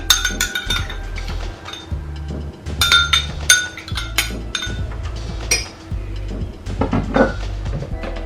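Lemon zest, fiber and other ingredients go into a cup and are stirred, with bright repeated clinks of spoon against glass in irregular bursts, close and fairly loud, with soft knocks between.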